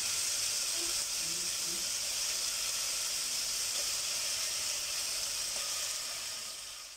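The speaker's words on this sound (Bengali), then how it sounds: "এবার আমি এতে চিকেনগুলো অ্যাড করে দিচ্ছি" Chicken pieces hit a hot pan and sizzle in a loud, even, hissing rush that holds steady for several seconds before tapering off slightly at the end, with no talk.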